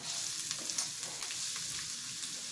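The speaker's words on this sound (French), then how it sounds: "Je pense que l'huile est assez chaude. On va être fixé tout de suite. Ouais, voilà. Ça commence à frémir." Hot oil sizzling in a pan as it comes up to temperature before garlic and onion go in, a steady close hiss with faint crackles, no talk.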